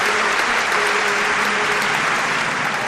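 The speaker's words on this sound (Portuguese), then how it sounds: "Mais palmas, gente!" Steady, continuous applause from a crowd for a guest on a radio programme, a broad even wash of clapping with no pauses, at moderate level and no clear voices.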